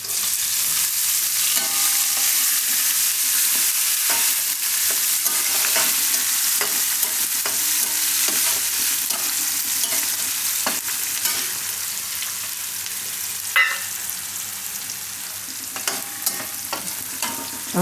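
Green onion hitting hot oil seasoned with asafoetida for eggplant fried rice, a loud continuous sizzle with scattered scraping and stirring clicks, close up and free of speech.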